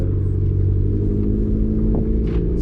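A modified 2015 Vauxhall Corsa E engine runs close by with a steady, humming idle rich in low tones, rising slightly in the middle before settling back.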